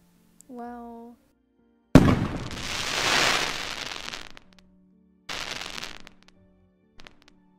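An explosion effect: a sudden loud bang swelling into a long roaring burst, followed by a second shorter rumble and a faint final pop, with a brief tone before it.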